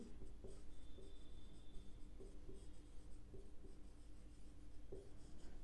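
A pen writes on paper while an accounts practical problem is worked out, with close, soft scratching strokes and light taps recurring in short bursts; no voice is heard.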